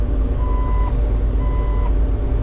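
A tractor with a CVT-style transmission and GPS system gives off a warning beep, two steady tones about a second apart, sounding over loud, constant low engine rumble from inside the cab.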